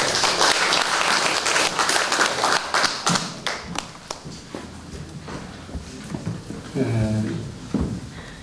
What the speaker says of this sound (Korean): 네, 박수로 환영해 주십시오